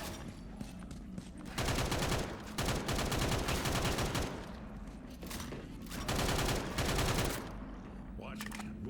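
Rifle fire in Left 4 Dead 2 on expert difficulty, long loud bursts of rapid automatic shots that repeat with short pauses and dominate the mix from start to finish.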